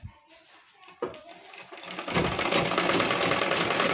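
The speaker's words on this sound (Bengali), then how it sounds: "এখানেও আমি দুটো সেলাই দেব" A sewing machine runs steadily and loud, stitching a palazzo seam after a few quiet handling sounds and brief starts.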